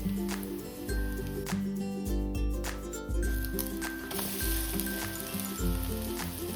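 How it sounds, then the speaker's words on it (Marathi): Malpua batter frying in a pan, a steady, soft sizzle running throughout beneath background music, close and low in level. "आता ह्याला आपण पलटून घेतलंय आणि दुसऱ्या बाजूने मस्त असं शेकून घेऊयात।"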